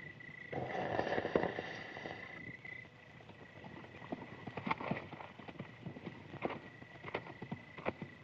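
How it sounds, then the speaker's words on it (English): Rhythmic clip-clop of hooves on the ground, steady and moderately close, with a faint wind rumble and a brief swell of noise early on. "It's a bunch of men on horses coming this way."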